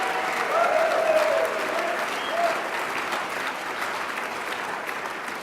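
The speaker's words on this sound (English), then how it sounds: "Let's give all 4 of them a round of applause." Applause from an audience at the Colorado State University Green & Gold Gala, a dense, steady wash of clapping that swells early and then holds evenly, with faint voices mixed in.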